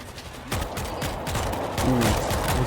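Rapid heavy gunfire from a heavy assault weapon in the video game World War Z, booming shots in quick succession layered with echoing blasts, loud and continuous.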